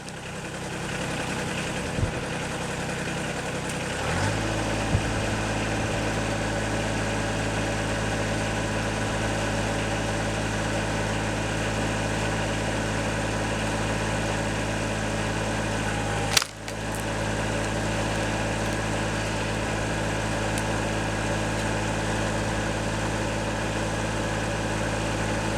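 The engine of a homemade wood splitter runs steadily and loudly at idle for the whole stretch while spruce is split, with a short sharp knock near the end.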